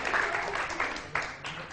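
Brief burst of applause from a studio audience on a morning television show, with a voice speaking over the clapping.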